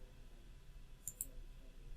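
Two quick computer mouse clicks land close together in a quiet room, sharp and faint over a low steady background hum, during software work in NX setting up a parameter table.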